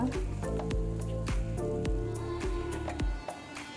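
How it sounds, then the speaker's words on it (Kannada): Puffed rice being washed by hand in water for a breakfast dish: repeated wet squishing and splashing squeezes at an irregular steady rhythm, close and clear, with no talk over it. "ನೋಡಿ ಚೆನ್ನಾಗಿ ತೊಳಿಬೇಕು ಇದನ್ನು ನೆನೆಯೋಕ್ಕೆ ಬಿಡೋಣ"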